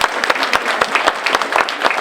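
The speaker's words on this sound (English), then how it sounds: "One more round of applause." An audience applauds after a local history talk on cigar making in Binghamton, a loud, dense burst of clapping from a room full of people.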